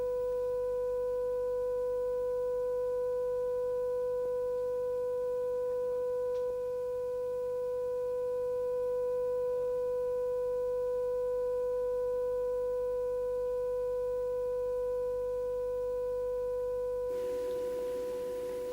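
Two steady electronic tones sound together in a physics experiment on sound, holding even and constant for most of the span before a brief noisy change at the end.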